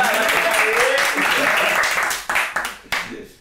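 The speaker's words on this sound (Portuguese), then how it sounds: "pessoal do áudio vai gostar dessas palmas" A small group claps and cheers loudly and continuously at a podcast recording, the applause breaking into a few separate claps before fading.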